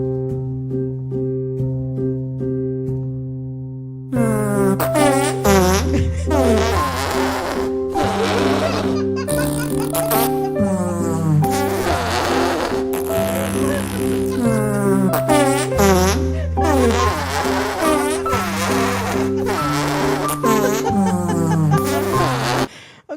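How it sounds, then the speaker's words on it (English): A lullaby built from fart sounds: a soft sustained tonal intro gives way after about four seconds to a steady, rhythmic run of buzzy, sputtering toots set to a melody. It plays loud and continuous with no talking. "I need to listen to this fart lullaby song"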